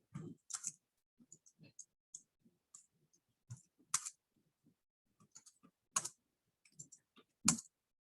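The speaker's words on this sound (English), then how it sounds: "but I'm not typing on the right keyboard." Computer keyboard typing, irregular bursts of close soft key clicks and clacks with brief pauses, a few louder sharp taps, and no talk.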